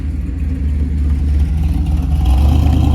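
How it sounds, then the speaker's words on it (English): A Toyota Land Cruiser engine runs with a steady low rumble that builds slightly toward the end, loud and continuous with no talk over it. "got a nice Toyota Land Cruiser over there"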